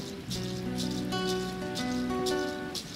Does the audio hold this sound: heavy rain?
yes